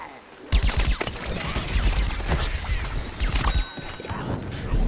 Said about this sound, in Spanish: Está disparando un cactus por detrás